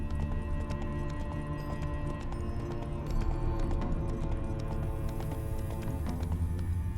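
Steady hoofbeats from Roach, the horse in The Witcher 3 video game, clop along at a trot beneath ongoing game music, close and even throughout.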